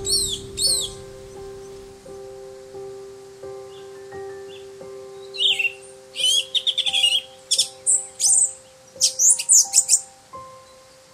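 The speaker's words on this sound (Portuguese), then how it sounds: "O sabiaúna, com seu canto majestoso, também é visto dependendo da época do ano aqui no caparal." Sabiaúna thrush singing in Atlantic Forest at Caparaó, Brazil: clear, close bursts of whistled phrases arriving in rapid clusters, with other birds chirping and a steady tonal hum in the background.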